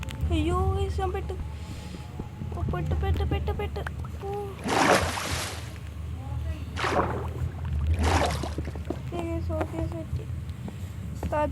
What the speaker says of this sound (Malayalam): വെള്ളമുണ്ട് ഇവിടെ.